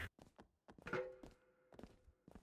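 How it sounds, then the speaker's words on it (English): Fire extinguisher swung as a weapon during a backstage brawl in the WWE 2K20 wrestling video game, landing a few dull, solid thuds with brief game noise between them. "Now using the extinguisher as a weapon! Do you hear that thud?"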